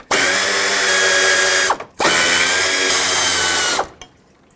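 A power drill or impact tool backs out two 10mm bolts from the radiator bracket of a 2013-2020 Nissan Pathfinder, two loud sustained whirring bursts, each about two seconds long, that wind down and stop, with a short gap between them.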